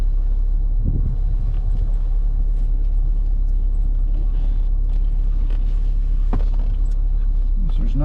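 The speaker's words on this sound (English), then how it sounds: "Get that shut off, and let's head out for a drive." A 1967 Rolls Royce drives along a road, a heavy low rumble steady throughout from inside the cabin, with faint creaks and mechanical rattles over it and no talking.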